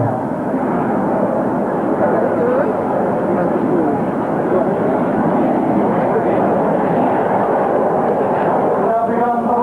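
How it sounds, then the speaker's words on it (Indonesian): A military airplane makes a slow, low flypast at an air force anniversary display, its engine roar sustained and broad throughout, with a voice talking over it. "Sangat dibutuhkan kecermatan dalam menerbangkan pesawat dengan kecepatan rendah seperti ini."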